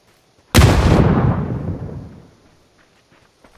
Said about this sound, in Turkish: Bir bomba atacağım.